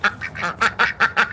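Two ducks quack in a rapid, chattering series of about seven loud, nasal calls, close by and with no voices over them.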